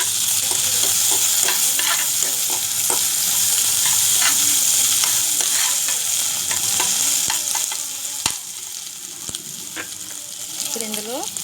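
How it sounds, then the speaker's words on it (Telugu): Ginger and garlic frying in hot oil for a carrot ginger soup, a steady loud sizzle with scattered sharp stirring clicks and scrapes, easing a little toward the end. "ఇప్పుడు ఇందులో అల్లం, వెల్లుల్లిపాయ వేసి వేయించుకుందాం."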